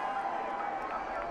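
A crowd of race fans at the Coca-Cola 600 stock car race gives a distant, steady roar of cheering, heard briefly beneath a voice talking over it.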